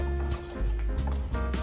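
Water pours into an electric kettle being topped up to the fill line, a close, hollow gurgling stream with a steady resonant tone that shifts slightly as the level rises, heard alone.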